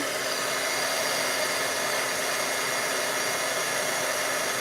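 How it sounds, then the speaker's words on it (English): A craft heat tool blows hot air during a festive fun-fold card-making class, giving a steady, loud, unbroken whooshing hiss that fills the whole stretch. "I let my heat tool heat up a little bit here."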